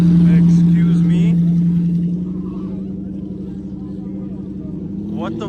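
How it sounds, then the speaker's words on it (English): A white McLaren P1 and a Koenigsegg supercar drive past nearby, a loud steady engine drone that fades slightly as they move away, with excited voices over it. "White P1 and a Koenigsegg."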